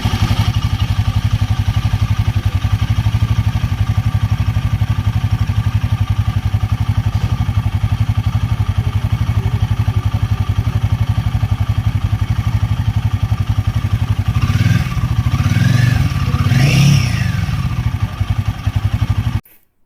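A Royal Enfield Himalayan 450 motorcycle engine runs after its third service and engine noise fix. It holds a steady, close idle for a long stretch, then gives a brief rev near the end before cutting off.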